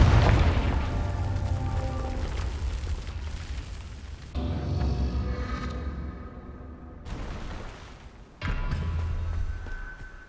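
Fiery spell blasts in the Hogwarts Legacy video game, a sequence of deep booming explosions with rumbling low-end bursts separated by brief lulls, loud and close.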